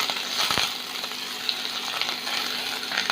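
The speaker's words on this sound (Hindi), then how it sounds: "इसमें अदरक और लहसुन दोनों को अच्छे से फ्राई कर लेंगे।" Ginger and garlic fry in hot oil over a high flame, giving a dense, bright continuous sizzle up close with occasional clinks of a spatula against the pan.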